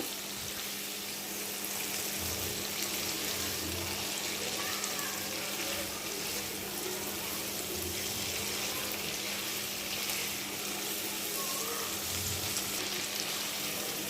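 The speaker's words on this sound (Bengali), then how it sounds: "মশলার সাথে পটল আরও এক মিনিট আমি এভাবে কষিয়ে নিব" Pointed gourd (potol) sautéing with spices in a pan, a steady broad sizzle that holds for the whole stretch, with soft low stirring bumps and a faint voice under it.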